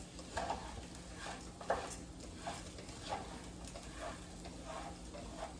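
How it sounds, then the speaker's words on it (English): Shrimp and barley risotto is stirred in a pan, a soft low sizzle running under rhythmic scraping strokes at a steady pace, close and fairly quiet, with no talking. "Let's stir that all in there real quick."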